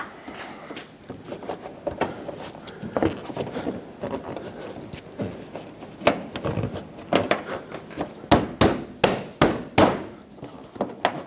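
Headlight mounting clips on a 2008-2012 Honda Accord are tapped into place with a series of sharp plastic knocks that quicken and grow louder toward the end, over faint handling scrapes.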